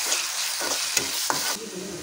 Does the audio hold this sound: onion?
yes